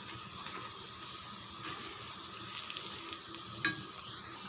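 Bonda frying in oil as they are turned over, a faint steady sizzle with a couple of soft utensil taps and no voices.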